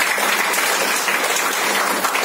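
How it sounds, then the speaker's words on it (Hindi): Steady applause from an audience at a Women's Day celebration event, a dense continuous wash of clapping lasting the whole stretch with no voices over it. "अनलिमिटेड, इनके लिए तालियां होनी चाहिए।"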